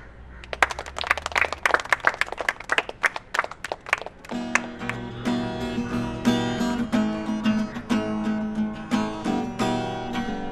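Several people clap hands in a quick irregular burst of sharp claps for a few seconds, then music with strummed instruments takes over.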